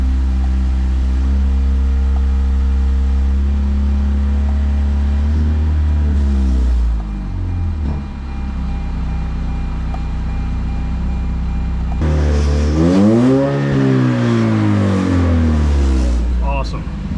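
Engine of a 2017 Lexus IS200t F Sport with a newly replaced 8-speed transmission, a loud steady drone through the upper gears, then revs swell and dip as it downshifts.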